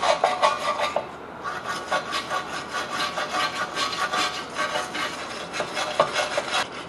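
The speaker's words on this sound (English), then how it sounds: "First, we're going to use our wire brush." Wire brush scrubbing corrosion off the hub mating surface on a 2010 Ford Taurus rear hub, a steady close-up rasping scrape in rapid back-and-forth strokes, loud and continuous with no voices.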